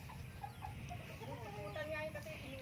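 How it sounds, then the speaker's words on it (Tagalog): Native chickens clucking in a backyard coop in a rural Filipino yard, a steady run of short calls and warbles close by over a constant background din. "kulungan ng manok"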